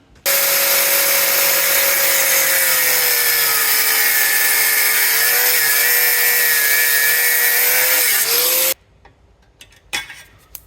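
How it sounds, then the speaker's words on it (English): An angle grinder cuts off rusted bolts, a loud steady high-pitched whine and rasp running unbroken for about eight seconds before it stops abruptly, followed by a few faint clicks and knocks. "So let's just grind those off, and then I can replace them with a nut and bolt afterwards."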